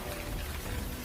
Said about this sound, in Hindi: बाहर ईमान बारिश में भीग रही है